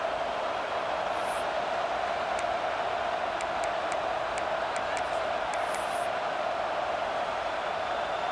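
A stadium crowd roars in College Football 26 during a South Carolina rivalry game, a loud, constant wash of noise with faint clicks on top and no commentary.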